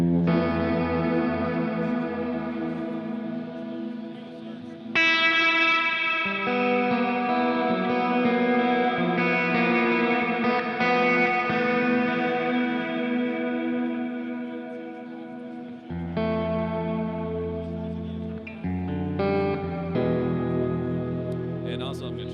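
Hall reverb setting on a Chase Bliss Audio CXM 1978 reverb pedal, played at NAMM 2020: sustained, richly reverberant instrument chords that swell and shift, with long washed-out tails carrying over each change.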